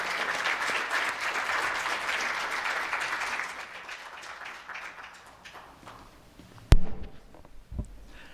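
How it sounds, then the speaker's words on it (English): Audience applause fills a hall at AAAS opening remarks, steady and sustained for a few seconds, then thinning out and fading, with a sharp knock or thump and some shuffling near the end. "So a round of applause for Dr."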